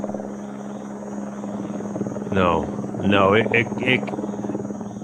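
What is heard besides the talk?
helicopter flying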